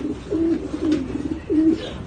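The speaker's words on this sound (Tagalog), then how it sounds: "binubulabog niya dito yung isang ibon eh." A bird coos in soft, repeated calls, three short mellow phrases with brief gaps, fairly close against a faint background hiss.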